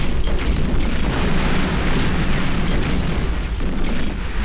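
Continuous rumbling barrage of artillery supporting fire in a WWII Leningrad war strategy game, dense booms blending into a steady roar with no pauses.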